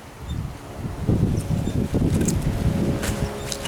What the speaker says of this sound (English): It's pretty windy today, really breezy.